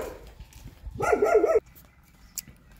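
A black dog barks once as a short, loud, close burst beside a road, heard alone over faint background rumble with a small click afterward.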